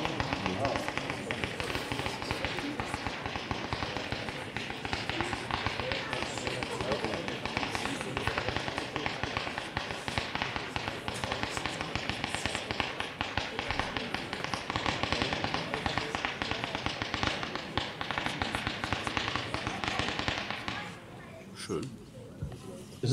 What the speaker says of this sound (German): Batterie, Z-Shape, bunte Kometen mit Glitterschweif. So eine Schussbatterie.